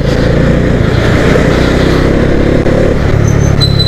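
Bajaj Dominar motorcycle engine droning steadily and loud while riding, a continuous close hum with road and wind rush, no talking.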